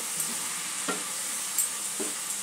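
Fish curry with chilli powder is stirred in a pan over a steady sizzle, with a few soft scrapes of the spoon against the metal at irregular intervals and no voices.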